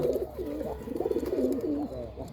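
Racer pigeons coo close by in a steady, throaty, rolling pattern of repeated warbling phrases, with faint background noise underneath.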